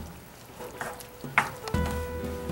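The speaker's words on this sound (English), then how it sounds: "And we're going to give this a good stir." A spoon stirs arrabbiata sauce with pepper and parsley in a hot pan, giving a few scraping strokes over a steady sizzle that grows fuller toward the end, close up and with no voice.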